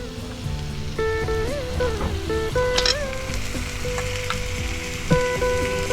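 Chicken leg pieces fry in a spicy masala, a steady crackling sizzle partly masked by a melodic tonal line running over it.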